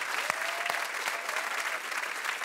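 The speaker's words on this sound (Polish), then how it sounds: "Wielkie brawa dla pana Adama." Audience applause for a contestant on a televised brain-challenge show, dense steady clapping from a studio crowd with a few sharper nearby claps, sustained throughout and unbroken by speech.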